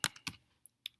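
A few quick keystrokes on a computer keyboard, four or five crisp, close taps with short gaps between them, as a mail server address is entered on a MacBook.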